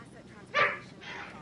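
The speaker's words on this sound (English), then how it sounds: "Why are you barking, Mr. Crazy?" A single short dog bark rings out nearby, followed by a softer yip, over a faint background murmur.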